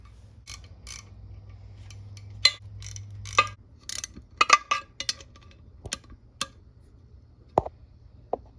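Ratchet wrench snugging up the connecting rod bolts on a Predator 224cc engine block, a series of crisp, close metallic clicks in short irregular bursts over a faint low hum, no voices.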